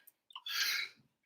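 One sharp human sneeze, close and fairly loud, opened by a quick intake of breath and fading into a brief low exhale, with nothing else around it.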